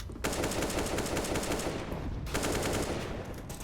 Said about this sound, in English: Magisk looking for a lucky wallbang